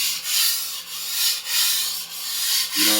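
An antique Dufrense and Co. European-style chef knife is drawn across a sharpening stone in five even, rhythmic rasping strokes, close and clear with no talking.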